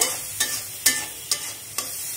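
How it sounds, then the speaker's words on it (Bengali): Spice paste with green chilli and salt fries in oil in a pan, a soft steady sizzle punctuated by five evenly spaced scraping stirs, close and fairly quiet, no talking. "মানে এটা ভাজা ভাজা হয়ে গেছে,"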